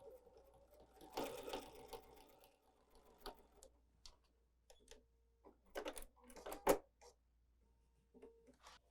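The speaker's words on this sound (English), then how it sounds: "I'm sewing with a 4D foot" A sewing machine fitted with a 4D foot stitches an insulated lunchbox, quiet close bursts of rapid mechanical whirring broken by pauses, clicks and the rustle of handled fabric.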